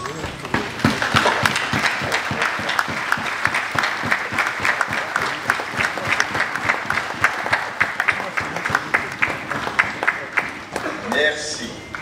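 Applause fills the Senate chamber as newly validated senators stand to be acclaimed, sustained dense clapping with some cheering throughout, and a voice briefly heard near the end.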